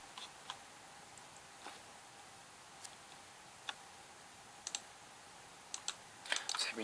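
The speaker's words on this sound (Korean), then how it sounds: "윈도우 키 누른 다음에 그림판을 쳐서 엔터를 입력해서 바로 실행할 수도 있습니다" Keys click sparsely on a laptop keyboard as the Windows key is pressed, a search term is typed and Enter is hit, soft isolated taps ending in a quick burst of keystrokes.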